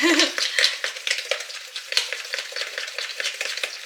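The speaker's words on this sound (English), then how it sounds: "We're just gonna use a little fork to mix it and mix everything together." A small fork whisks pumpkin cinnamon muffin batter in a bowl, with quick, close scraping and tapping strokes in a steady rhythm throughout.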